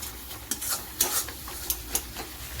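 Spice paste for mutton fries in oil with a quiet, steady sizzle, punctuated by rhythmic scrapes and clinks of a spoon stirring against the pan about every half second.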